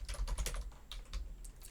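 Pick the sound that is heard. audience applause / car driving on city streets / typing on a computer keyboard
typing on a computer keyboard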